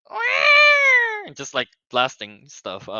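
A voice imitates a cat with a long, loud, drawn-out meow, followed by a few quick spoken words.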